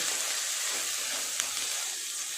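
Masala paste of chili powder and salt fries in a pan with a steady, moderately loud sizzling hiss and no voices.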